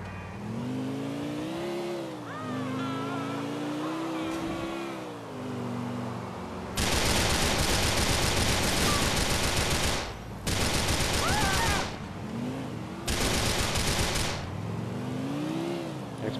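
Gunfire in the game Grand Theft Auto IV, with three long, loud bursts of rapid automatic fire cutting over a car engine revving and droning throughout the scene.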